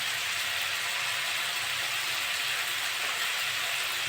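Potatoes frying in a pan with turmeric and salt for an aloo bhaja, giving a steady, dense hiss and sizzle that runs unbroken throughout at a fairly loud, close level.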